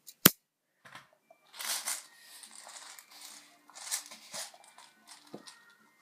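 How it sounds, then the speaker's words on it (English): Small BB pellets are loaded into a metal BB gun magazine with its spring pressed down: one sharp snap, then scattered light metallic clicks and rattles, close and quiet. "Just load some BB pellets into there. Press the spring down."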